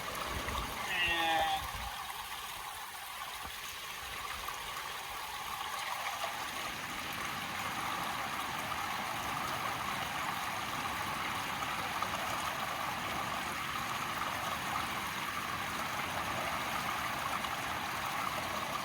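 River water rushes and gurgles steadily close by on the Yuba River, a constant broadband wash lasting throughout, briefly joined by a faint high whistle near the start.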